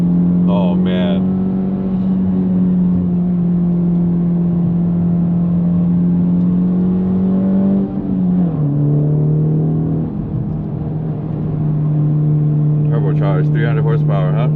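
A turbocharged 300-horsepower car's engine drones loud and close with a steady tone, briefly dipping in pitch partway through as if shifting, then settling back into a sustained pull.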